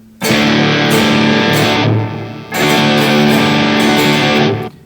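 Two loud sustained distorted electric guitar chords played on the neck pickup of a Kiesel Allan Holdsworth HF2 Fatboy, each ringing for about two seconds with a brief gap between, no voices.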